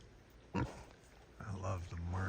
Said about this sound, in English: got a bunch of little piglets all running around, playing in the mud